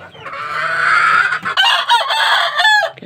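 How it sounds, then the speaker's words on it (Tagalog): Young stag rooster of a green-legged fighting-cock breed clucking and then crowing, loud and close, with a raspy sustained call followed by short broken clucks. "Hindi isa na lang pong itong stag na kanaway eh."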